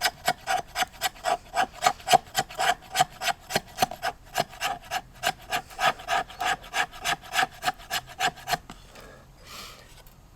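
A bushcraft knife scraping wood into fine fluff shavings, about two dozen quick, even rasping strokes close up, then a softer rustle after the scraping stops.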